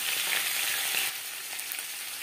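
Radish pieces frying over a medium gas flame in a pan, a soft continuous hiss of sizzling oil that eases slightly after a second, heard alone up close.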